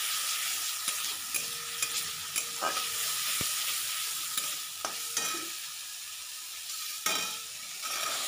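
Masala frying in a pan for a village-style lunch, a continuous close sizzle with regular scraping strokes of a spatula stirring through it at roughly one-second intervals.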